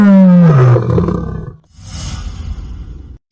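A lion's roar booms out alone, its low rumble rising and trailing off, then a hollow, echoing repeat comes back as if thrown back up from inside a deep well.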